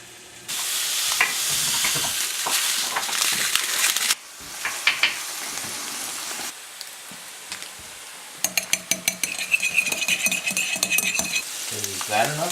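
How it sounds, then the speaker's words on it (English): A maple syrup and vinegar reduction glaze is stirred in a pan, sizzling steadily with scraping strokes and a brief pause midway, then quicker rhythmic clicks of the utensil against the pan near the end. "The reduction glaze that I'm making right now"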